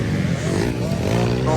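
Motorcycle engines roar steadily through a local enduro race heat in Kinoguitan, Misamis Oriental, a continuous loud drone mixed with crowd babble and commentary.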